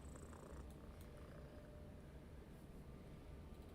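Soft, continuous purring from a cat in the video game Skyrim, a steady low rumble heard up close and quiet with no talking.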